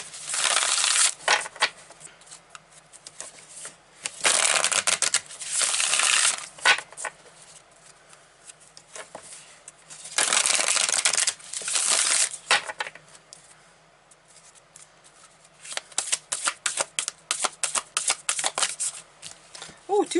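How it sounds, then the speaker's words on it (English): A Moonology oracle card deck is shuffled nearby in loud, sustained riffling bursts, ending in a quick run of sharp, rhythmic card flicks, with speech in the pauses. "Let's grab another card from the Moonology deck"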